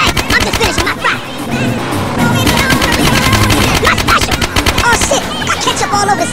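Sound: gunfire in video game Grand Theft Auto: San Andreas

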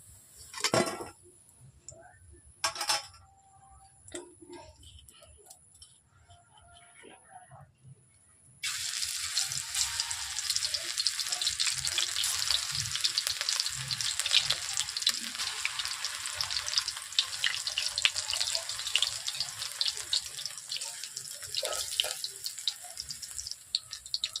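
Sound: greens fritters (pakoras) deep frying in oil

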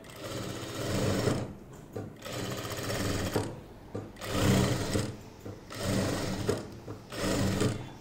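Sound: sewing machine stitching a churidar top neckline

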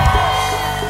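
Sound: crowd shouting at a live forró concert

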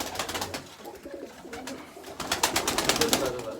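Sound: pigeons cooing in a loft

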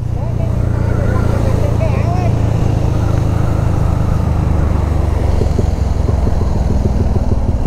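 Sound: motorcycle riding across a bridge

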